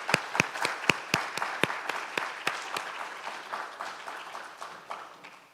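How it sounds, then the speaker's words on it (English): Applause from an audience at a summer fellowship celebration: a crowd claps in a brisk, dense burst that starts loud with sharp individual claps and gradually thins out. "Let's give Shiraz another round of applause"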